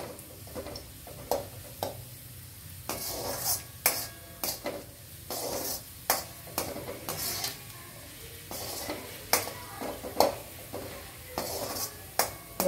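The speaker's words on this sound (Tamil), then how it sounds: "சிம்மில் வச்சு கருகாமல் பொன்னேரமாக வறுத்து எடுத்துருங்க" Semolina roasts in a pan over a low flame, with repeated scraping and stirring of a metal spatula and soft clinks against the pan above a faint sizzle, intermittent and fairly quiet.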